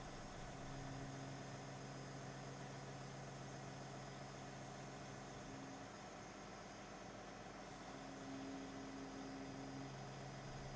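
A John Deere 1050K dozer's heavy diesel engine idles steadily and continuously, a low rumble with a constant tonal hum throughout, no voices.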